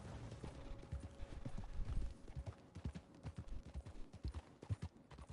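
Horse hooves clip-clop in the Red Dead video game, an irregular run of hollow thudding steps close by with no talk over them.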